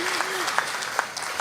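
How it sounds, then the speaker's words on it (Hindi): An audience applauding at a Hindi poetry recital, giving dense, steady clapping that carries loudly through the whole short stretch, with a voice briefly heard over it at the start. "एक बार फिर मौका देती हूँ, तालियां बजाइए।"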